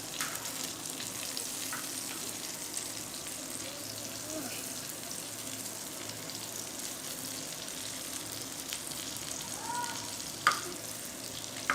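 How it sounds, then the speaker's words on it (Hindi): Reshmi kababs fry in a pan over a medium flame, giving a steady, fairly quiet sizzle that runs the whole time, with a few faint clinks and scrapes as they are turned. No one speaks. "ये साइडें चेंज करने से ये हर साइड से बराबर फ्राई होते हैं"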